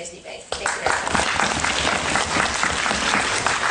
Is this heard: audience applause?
yes